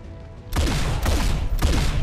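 Covering-fire gunshots in XCOM 2, three loud, close bursts of gunfire about half a second apart, each a sharp crack with a rumbling tail.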